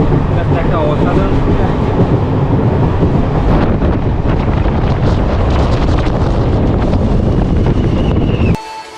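A Vistadome glass-coach train runs from Vizag to Araku, its steady loud rumble and wind roar filling the coach before abruptly dropping away near the end.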